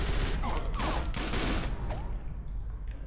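Turret gunfire in the Fighting Force 2 video game, heard as a loud, dense fusillade of rapid shots with mechanical clatter over a constant rumbling background, with no talking.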